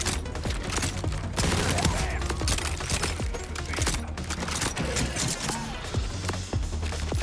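Gunfire in the video game Borderlands 4 crackles in dense, rapid bursts throughout, loud and sharp, with a busy game soundtrack underneath and no voices.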